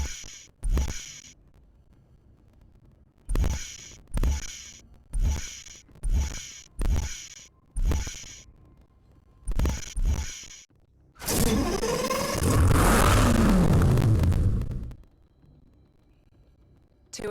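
A Lamborghini Gallardo Spider V10 in the racing game Need for Speed Hot Pursuit Remastered. A series of short, evenly spaced mechanical bursts is followed by a loud, sustained engine roar that sweeps up and down in pitch for a few seconds before cutting off.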